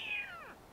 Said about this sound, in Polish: Jezu, jak te koty się drą strasznie!